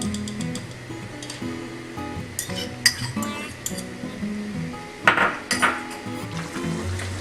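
Onion paste cooking in about two tablespoons of butter in a pan, heard mostly as clinks and scrapes of a utensil against the metal pan, with a few sharper knocks, nearby and moderately loud.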